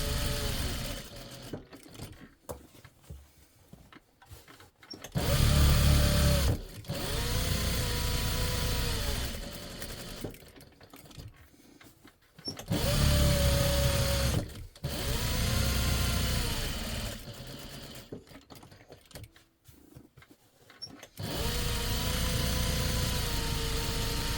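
Sewing machine basting down batting along the edges of a refillable catnip mat runs in several loud motor bursts with a steady whir, separated by quieter pauses filled with handling noise.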